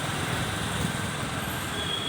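Road traffic moves past on a road, with buses, trucks and cars giving a low, constant rumble and hum at moderate distance, fairly quiet and steady with no talking.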